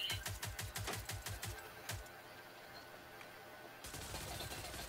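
Rapid bursts of gunfire in the video game Rogue Company, a fast run of sharp shots for about two seconds, a quieter gap, then another dense volley near the end.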